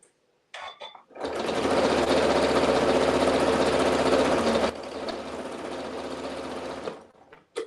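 A sewing machine runs steadily and close by while stitching binding onto a T-shirt quilt, a continuous whirring drone that slows slightly partway through before stopping.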